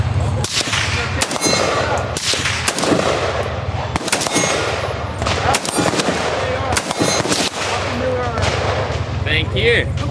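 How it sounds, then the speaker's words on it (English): Rifle shots fired at a crowded shooting event, loud sharp cracks repeating every second or so with metallic ringing clangs after them, while people talk in the background. "Insert the mag, hit the paddle when you're ready to fire."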